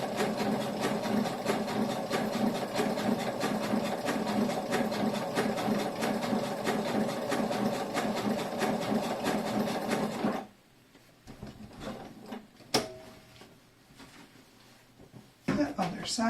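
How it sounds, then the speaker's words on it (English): A sewing machine top stitches a shoulder bag at reduced speed, giving a steady rapid mechanical whirr for about ten seconds. It then stops abruptly, leaving quiet handling clicks and faint room sound. "I'm top stitching, so I reduced my stitch speed."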